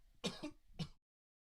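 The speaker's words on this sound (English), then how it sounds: "apologies for the coughing there" Two sharp coughs from a motorsport commentator during live Formula 1 Las Vegas Grand Prix coverage, close and loud, with a brief throat-clearing sound between them and then silence.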